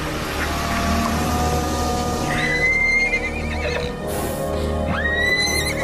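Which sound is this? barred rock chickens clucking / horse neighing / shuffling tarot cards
horse neighing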